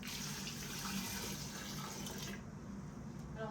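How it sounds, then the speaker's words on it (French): Water poured into a cooking pot while making harira soup with tomato concentrate and coriander, a steady close rushing splash that thins slightly toward the end. "Je rajoute l'eau."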